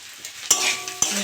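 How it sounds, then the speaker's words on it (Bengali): Potatoes fry in ghee in a pan with a steady sizzle, punctuated by two sharp scraping strokes of a spoon stirring them, close and clear. "আলুগুলো একটু ভেজে নেব"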